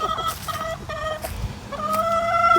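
Backyard chickens cluck and chatter close by around the coop on a wet morning, with repeated nasal calls in uneven bursts and no talking.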